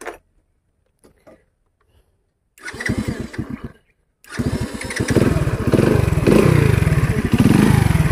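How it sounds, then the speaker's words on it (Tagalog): A Marvel 125 motorcycle, checked for a reported engine noise, cranks twice: first a short sputtering attempt that dies, then it catches and settles into a loud, steady idle with a rapid, even rattle close by. "So, yan yung tunog ng makina niya."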